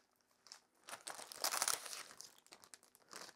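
Paper towel crinkling and rustling as a plant is unwrapped during a houseplant unboxing, a series of close, dry crackling bursts that build to a dense peak midway and then come back in shorter crinkles.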